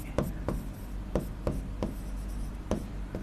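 Pen or chalk strokes of handwriting during a lecture on Tughlaq-era history, a string of short, sharp taps and scrapes repeating about every half second against a steady low room hum.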